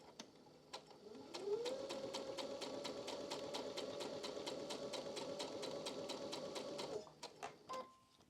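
A sewing machine stitches through a pumpkin quilt, running at a steady rapid rhythm of needle strokes for about six seconds after spinning up, then slowing and stopping, close and alone.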